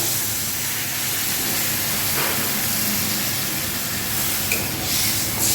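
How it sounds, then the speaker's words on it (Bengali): A loud, steady hiss and sizzle as water is poured into a hot pan of rohu fish curry, a continuous rushing steam sound with no voices. "এবার এতে আমি জল ঢেলে দেবো।"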